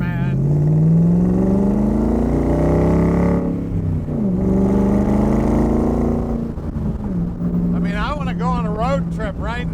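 The engine of a 1965 Shelby Cobra Factory Five replica idles and revs in a deep, steady rumble. Pitch swells and dips through blips of the throttle, close and loud, with faint chirping noises near the end.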